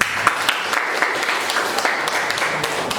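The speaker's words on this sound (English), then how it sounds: "I'm clapping" Clapping from a small classroom audience during an English speaking lesson, a dense patter of hand claps lasting a few seconds at steady moderate volume with no one speaking.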